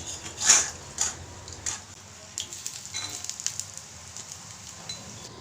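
Besan batter fritters deep-frying in hot mustard oil, a steady close sizzle and crackle with a few louder bursts as batter drops in, no voices.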